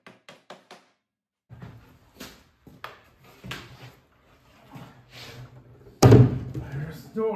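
A new wooden door on a saw shack is handled, with quick knocks, then several bumps and thuds and a loud slam or thump near the end, mixed with someone talking.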